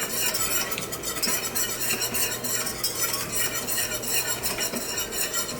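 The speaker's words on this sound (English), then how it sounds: "you're just going to whisk in the flour and let it cook in the butter" A whisk stirs flour into melted butter in a pan for a basic macaroni and cheese roux, giving a steady, continuous scraping and swishing with light metallic clinks, close and even throughout with no talking.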